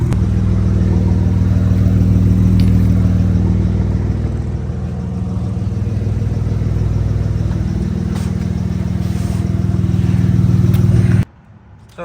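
A car engine idles steadily while charging the battery, a low, even, close-up rumble with a slight dip in the middle, cutting out abruptly near the end.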